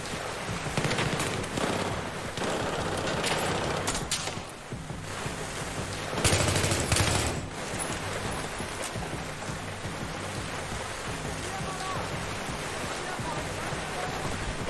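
Gunfire in Battlefield 3, sustained noisy bursts of shots and battle din running throughout, with a louder cluster of shots around the middle.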